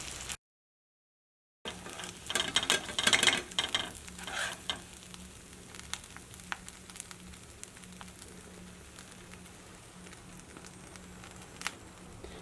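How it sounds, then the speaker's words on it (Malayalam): Eggs frying in masala in an oil-filled pan give a steady soft sizzle, with brief stirring scrapes early on, after a short silent gap at the start; no voices. "ഇവിടെ മുട്ട ഏതായാലും ചെറുതായിട്ടൊന്ന് മുരിഞ്ഞിട്ടുണ്ട്"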